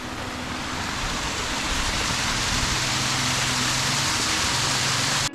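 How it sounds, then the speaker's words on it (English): Heavy rain hisses steadily through a forest near waterfalls in the Brecon Beacons, Wales, a dense, loud, unbroken wash of noise with no voices. "So it's raining again."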